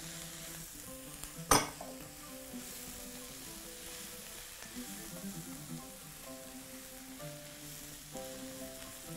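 Mushrooms and onion fry in a pan for a vegetable omelette, a quiet steady sizzle with the scrape of stirring and one sharp clink of a utensil against the pan early on.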